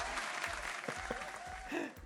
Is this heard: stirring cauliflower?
no